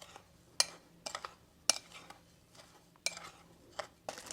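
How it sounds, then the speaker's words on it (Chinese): A utensil stirs and mixes the marinade for mala-spiced sausage in a bowl: about six sharp, irregular clinks and scrapes against the container, close and fairly quiet, with a faint steady hum beneath and no talking. "现在开始准备这个腌料，把这些腌料都混合在一起。"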